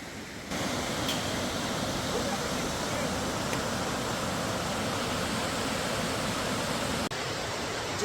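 A waterfall in the Dorrigo rainforest roars as a dense, constant wash of falling water, loud and close, starting abruptly after a brief quieter moment and holding steady throughout.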